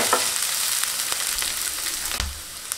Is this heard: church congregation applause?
no